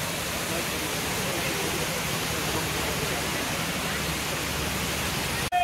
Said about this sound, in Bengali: আর এদিকে দেখো ঝর্ণার জল।